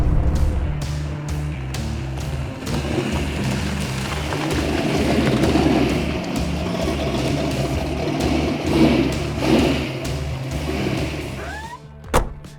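A 1967 Ford Mustang Shelby GT500E Eleanor recreation runs with a loud, rumbling V8 idle and lumpy low throb, swelling with a few revs, then a sharp clunk near the end.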